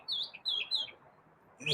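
A small bird chirps nearby in a few quick, bright tweets, then pauses before one last louder chirp, with a faint murmur of background noise.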